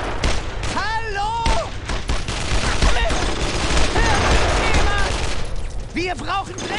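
Gunfire from the World War II video game Brothers in Arms: Road to Hill 30 crackles in dense, continuous volleys throughout, with shouted voices over the battle.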